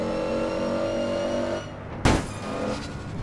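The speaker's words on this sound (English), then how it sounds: "Wow, this car's really loud, man." Loud, steady car engine drone from the video game APB Reloaded, then it cuts off with a sharp burst of noise and a fainter engine tone after, no talking.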